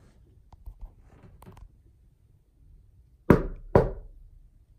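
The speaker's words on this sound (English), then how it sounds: "If I knock, will you knock back?" Two loud, sharp knocks land close together near the end, following a quiet stretch of faint room noise and a few soft taps, inside a house during a ghost hunt.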